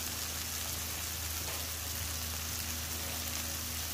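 Onions, jalapenos and minced garlic sizzle on a flat top griddle with a steady, close, even frying hiss that holds through the whole stretch, with no talk.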